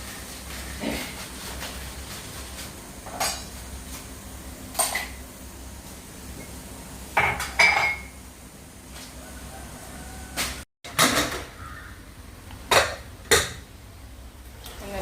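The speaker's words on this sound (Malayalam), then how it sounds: "അതിൻ്റെ ഉള്ളിൽ നമുക്ക് പാത്രങ്ങളൊക്കെ കഴുകിയിട്ട് വരാം." Intermittent clinks and clatter of pots and utensils being handled, with occasional running water, sparse and fairly faint in a quiet room.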